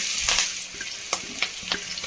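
Onion, green chilies and curry leaves sauté in a hot pan with a continuous sizzle, punctuated by several sharp spatula taps and scrapes, and no speech.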